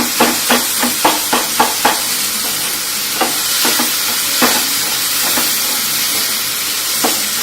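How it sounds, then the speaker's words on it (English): A ladle mashes mushy tomatoes in a frying pan, giving a quick series of sharp scraping taps at first, then slower scattered ones, over a constant loud sizzling hiss. "The tomatoes have started to become slightly mushy, and at this stage lightly mash them with your ladle."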